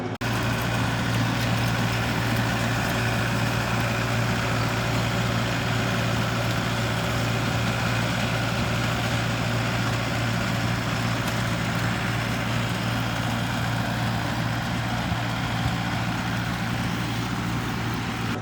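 A tractor-driven mechanical grape vine pruner runs in a vineyard with a steady, loud engine drone and constant broadband mechanical whir and rattle, unbroken for the full stretch.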